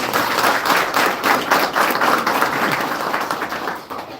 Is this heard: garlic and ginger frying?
no